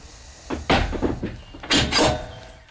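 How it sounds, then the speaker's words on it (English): The metal breech door of a horse float is swung shut and latched, giving a few close clunks, rattles and thuds with a louder bang near the middle and another at the end. "And then we can close the divider and close the breech door of the float."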